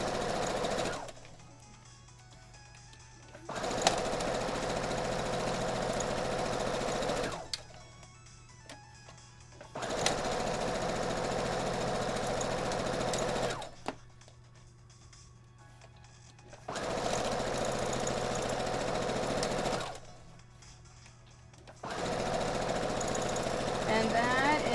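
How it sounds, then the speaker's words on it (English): A sewing machine stitches fabric at a quarter-inch seam with a guide foot. It runs in four steady whirring bursts of a few seconds each, close and clear, with someone talking in the pauses between runs. "And I'm sewing it at a 1/4 inch using my 1/4 inch foot with a guide."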